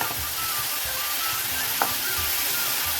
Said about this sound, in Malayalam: ഇതൊന്ന് നല്ലതുപോലെ ഒന്ന് വഴന്ന് വെക്കും